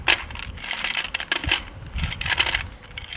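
Cooled, hardened sugar for homemade kulfi is broken apart by hand, giving a run of close, loud, crackling snaps and clattering shards in irregular bursts with no talk.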